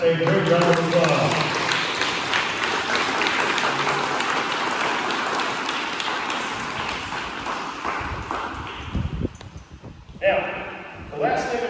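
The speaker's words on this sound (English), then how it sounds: "Let's give that third class a great round of applause" Audience applause for a class of students at a 5th grade celebration assembly, a broad sustained clatter of clapping that thins out toward the end, leaving a few scattered claps.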